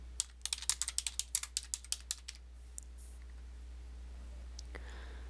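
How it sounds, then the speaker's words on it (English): Quick, light clicking of typing on a computer keyboard during an online application walkthrough: a rapid run of keystrokes that slows and stops, faint over a low steady hum. "You can begin typing the names of these organizations to search for them in our membership directory."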